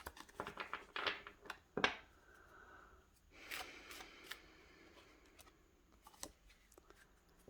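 A deck of tarot cards being shuffled and handled, quiet riffling bursts and soft flicks and snaps scattered over several seconds, close but faint.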